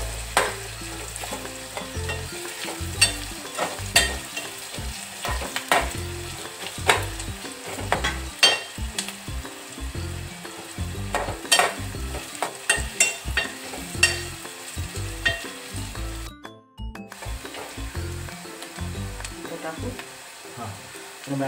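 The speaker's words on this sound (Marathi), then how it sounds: "मटण आपण त्याच्यामध्ये टाकलेलं आहे" Marinated mutton sizzles and fries in a pan with onion while it is stirred, producing a steady crackle with repeated scraping stirs, a brief pause, and speech heard over the cooking.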